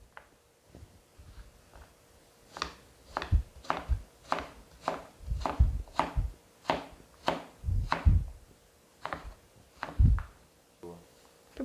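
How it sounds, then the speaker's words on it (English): A knife cuts squash into smaller pieces on a board, a run of about a dozen sharp, fairly evenly spaced chops, close and distinct, with faint talking at times. "Cut your squash in smaller parts."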